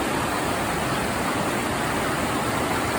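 Steady, dense rushing of creek water flowing toward a waterfall, a loud continuous broadband wash with no pauses and no voices.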